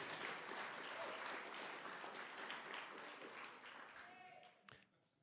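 A meeting audience at a community radio gathering gives a round of applause, steady clapping that fades out after about four seconds, followed by a brief voice.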